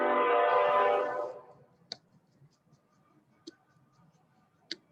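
A passing train's horn sounds as a sustained harmonic blare that fades away, followed by a few faint, sparse clicks in a quiet room.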